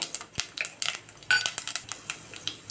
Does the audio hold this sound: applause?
no